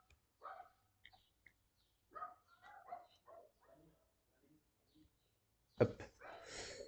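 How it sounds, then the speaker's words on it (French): A dog barks several times indoors, a few short yips and woofs spread out and fairly faint, ending in a louder burst near the end. "le chien, on a compris"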